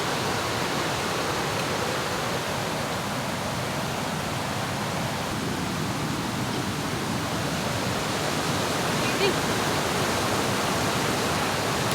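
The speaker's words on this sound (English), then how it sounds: "we just made it to the waterfall" A waterfall roars as a steady, dense broadband rush, loud and unchanging throughout with no pauses, heard alone with no voices or other sounds over the constant wash of falling water.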